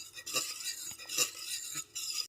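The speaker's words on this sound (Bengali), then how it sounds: "এবার হ্যান্ড উইস্কের সাথে খুব ভালো মতো মিশিয়ে দিচ্ছি মিশ্রণটাকে" A hand whisk mixing a milk mixture for sweet yogurt, giving quick, soft swishing strokes with light metallic clinks against the bowl, quiet and close.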